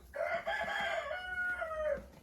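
A rooster crows once in a long, wavering call inside a coop shared with three hens, close and clear over faint low background rumble.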